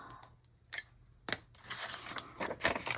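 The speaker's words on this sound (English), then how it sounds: "I think I'm going to use my good scissors" Several short, crisp snips of scissors cutting paper, spaced irregularly, with light rustling between cuts; close and fairly quiet, no talking.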